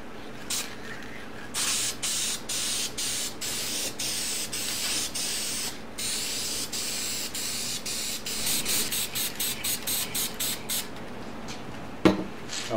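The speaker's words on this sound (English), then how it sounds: "Now it's time to get a coat of red on them." Short bursts of red spray paint hiss from an aerosol can, a rhythmic run of separate sprays with brief pauses, close and fairly quiet, used on motorcycle parts for a Honda Sabre cafe build.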